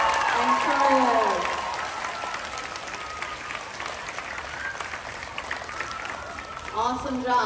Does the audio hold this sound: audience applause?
yes